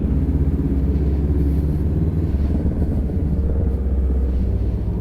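A 2017 Honda CBR500R motorcycle engine rumbles steadily and loudly up close, a deep continuous drone with no talking over it.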